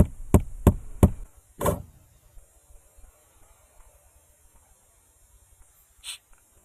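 Three sharp metallic taps in quick succession as a pin is hammered into a Seiko Kinetic watch band, then a fourth heavier strike, followed by quiet with one faint tap near the end; close and distinct.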